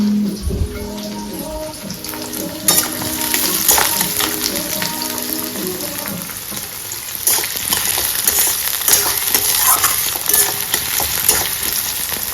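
Onions fry in a pan for a home-style Bengali egg curry, giving a steady, close crackling sizzle with occasional scraping stirs of a spatula and no talking.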